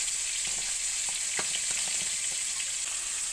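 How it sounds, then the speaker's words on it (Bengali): Mrigel fish frying in oil in a pan, a dense, steady sizzle with faint crackles and light ticks scattered through it, close and even from start to finish, no voices present. "এদিকে মাছগুলো সুন্দর করে ভাজা হোক"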